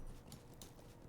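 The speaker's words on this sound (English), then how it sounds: "Now I'm gonna take the horse" Horse hooves clip-clopping in the Lord of the Rings Online video game, a few soft, quick hoofbeats at low volume over muffled background sound.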